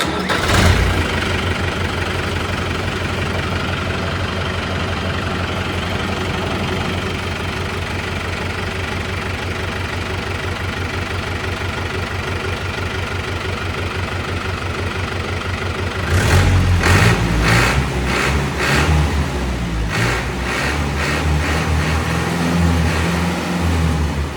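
A model 5630 tractor engine runs steadily with a loud, close, rough idle and a knocking undertone, then revs in several short bursts near the end, with no talking.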